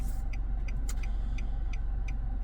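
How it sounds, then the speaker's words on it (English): A Nissan Juke engine idles steadily up close, a low even rumble with a regular light ticking repeating about every third of a second throughout. "But the car's still ticking over."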